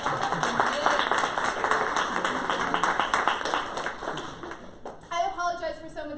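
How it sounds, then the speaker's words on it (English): Applause from a crowd, dense clapping that swells and stays steady for several seconds, with voices mixed in, then thins out near the end. "Let's give them a round of applause."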